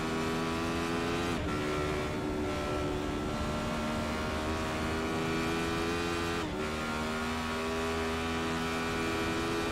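A race car engine drones steadily in a sim racing game at Bathurst, a loud sustained whine holding pitch with two brief dips where the revs drop on gear changes.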